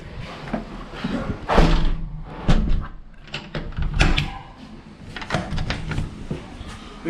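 A hog barn door is shut with a patent door holder, giving a series of heavy thuds, scrapes and rattling bangs at close range, irregular and loud over several seconds.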